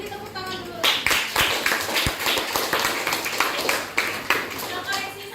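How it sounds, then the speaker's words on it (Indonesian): Classmates applaud a student in a classroom physics lesson, a lively, uneven patter of many hands clapping close by, mixed with a few sharp taps and children's voices talking over it. "Beri tepuk tangan dulu."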